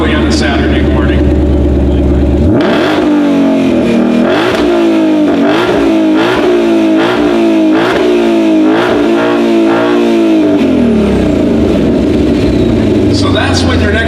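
A 2020 Shelby GT500 V8 starts up and revs hard repeatedly, loud close-up exhaust bursts rising and falling in quick succession before settling back toward idle.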